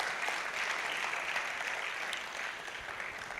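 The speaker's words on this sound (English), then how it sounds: "A round of applause for her." Audience at a World Environment Day gathering in Ogun State claps for a First Lady, a steady, fairly soft wash of many hands that continues throughout and eases slightly toward the end.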